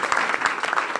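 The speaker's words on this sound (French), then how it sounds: "acclamons Jésus" A church congregation claps together in praise, a brief burst of dense, lively applause close around.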